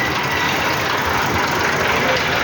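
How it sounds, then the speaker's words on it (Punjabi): A tractor engine runs in a steady, loud, unbroken rumble with a broad hiss layered over it, holding an even level throughout with no other clear sounds. "ਆਪਾਂ ਟਰੈਕਟਰ ਲੈ ਕੇ ਚੱਲੇ"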